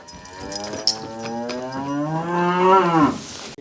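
A steer lets out one long, loud, rising moo, close by, with faint clanks before it and no talking.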